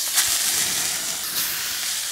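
Loud, steady sizzle of meat searing in a hot cast iron pan with chicken oil, a dense continuous hiss with brief crackling flares, close up and without talk.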